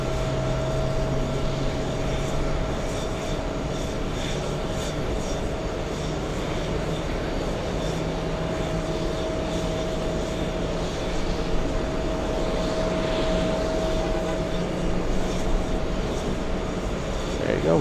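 A steady, broad roar from the jet engines of an American Airlines airliner bound for Madrid, heard at a distance at a busy JFK airport, with a faint tonal hum running through it.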